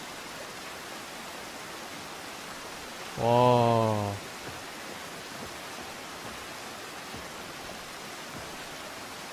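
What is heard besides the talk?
waterfall water sound in video game Dark and Light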